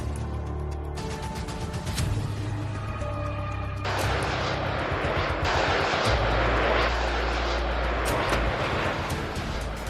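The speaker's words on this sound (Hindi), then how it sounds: "जरूरत पड़ते ही ईरान अपने ड्रोन निकालता है और अमेरिकी मिलिट्री बेस को टारगेट करके शाहिद ड्रोन उड़ा देता है" A Shahed 136 drone flies overhead with a steady buzzing engine drone that swells louder and rougher midway, continuous and fairly close.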